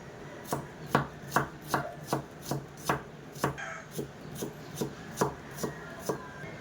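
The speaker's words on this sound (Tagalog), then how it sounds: "Gayatin natin ang sibuyas na bida-bida, pabida-bida" Onion being chopped with a knife on a board, about fifteen crisp close knocks in a steady rhythm with a brief pause midway and no speech.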